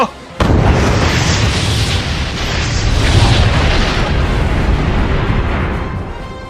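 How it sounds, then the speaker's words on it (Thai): A rocket launcher fires with a sudden blast, then a loud, sustained explosive roar that fills the whole stretch and slowly fades at the end. "เขาได้หยิบปืนยิงลูกจรวดล็อกเก็ตลันเชอร์เพื่อที่จะยิงปิดชีวิตเจ้าหมาป่าดิคาโด"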